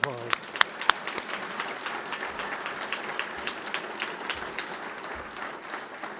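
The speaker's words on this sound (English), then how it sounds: "I think he deserves a round of applause" A seated audience applauds former college president Rich Wagner at an inauguration ceremony, a steady, dense wash of clapping that holds throughout, with a few sharper claps standing out near the start.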